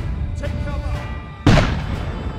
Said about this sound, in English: The bombardment continued on both sides the whole succeeding night